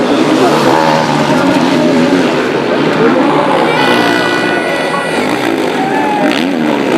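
Motocross bikes, a Rockstar Energy Suzuki, a World Motocross Honda and a factory Kawasaki, race through an MX1 race at the Belgian MXGP with loud, continuous high-revving engine drone close by, and commentary underneath.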